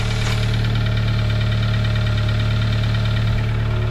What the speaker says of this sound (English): Bit of a misfire, tiny misfire.